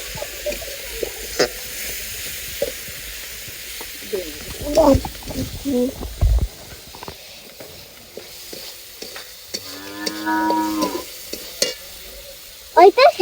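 Meat curry frying in a pan with turmeric, ginger and oil, stirred with scraping strokes over a steady sizzle, close and fairly loud, while someone talks now and then.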